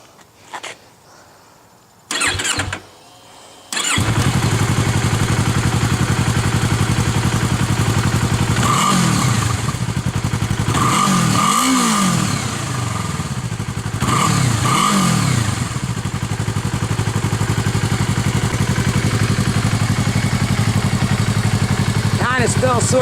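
Yamaha R3 motorcycle with its muffler removed starts after a few clicks, then idles loudly with several sharp revs rising and falling, someone speaking briefly near the start.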